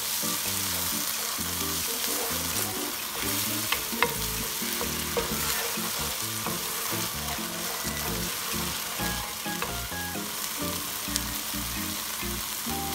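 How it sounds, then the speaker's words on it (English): Tomato sauce browns in a hot pan with a steady, dense sizzle and occasional stirring scrapes, loud and continuous with no talking. "Now brown this tomato sauce really good."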